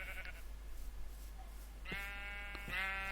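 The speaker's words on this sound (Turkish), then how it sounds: "Aha burada koyun var." Minecraft sheep let out two short bleats in the game, the second following the first by under a second, clear and close over a low steady hum.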